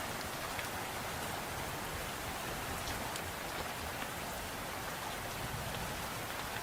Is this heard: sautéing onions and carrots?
no